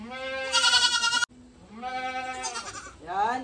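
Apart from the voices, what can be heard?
goats bleating while being dewormed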